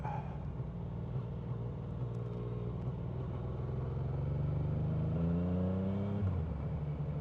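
Yamaha motorcycle engine running rough on three cylinders, chugging unevenly at a steady loud level while riding through city traffic in Spain, with a rising whine as it picks up speed near the end.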